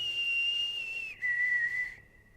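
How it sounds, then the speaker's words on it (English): A single sustained whistle during a paranormal investigation, steady then dropping to a lower held pitch before fading, heard clearly and alone with no talk. "That was a good whistle there."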